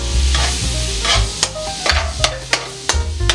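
Garlic dropped into a hot pan while cooking pork caldereta, sizzling and frying under repeated stirring scrapes, loud and close, with sharp spatula clicks spaced through the short stretch.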